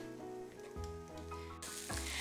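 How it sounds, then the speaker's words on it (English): Onions sizzle quietly in a hot frying pan, a soft, continuous crackle with no talking. "got that sizzle going on"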